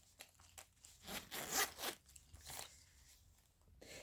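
Zipper being pulled on a leather-trimmed bag, a few scratchy rasping strokes up close, the longest one in the middle, with no talking.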